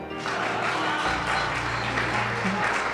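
An audience at a festive dinner applauds in a steady, fairly distant patter of clapping hands that fills the whole moment, with no voices over it.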